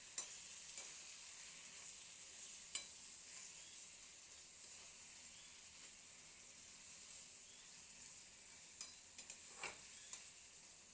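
Pieces of katla fish fat sizzle steadily as they fry in their own rendered oil, with occasional scraping clicks from stirring, quiet and continuous without any voice.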